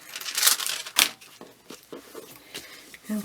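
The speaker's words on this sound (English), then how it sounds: "I'll just cut that off there." Paper being cut for handmade journal ephemera, heard as close, irregular bursts of crinkling and rustling with sharp snips and crackles, a louder crisp burst near the start, quiet gaps between and no talking.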